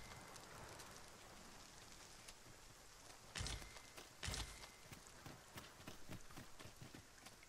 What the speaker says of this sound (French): Oh non, il se met à pleuvoir.